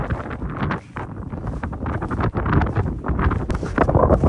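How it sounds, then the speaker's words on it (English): Strong wind gusts sideways across the frozen Manicouagan Reservoir, buffeting the microphone with loud, uneven rumbling and roaring that swells and dips throughout. "Wind is all coming through sideways."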